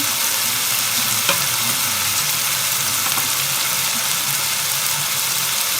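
Garlic, coriander and ginger paste frying with a spoonful of garam masala for a Maharashtrian dried-shrimp sukat curry, a steady, dense sizzle close by with a couple of faint scrape clicks, no voices.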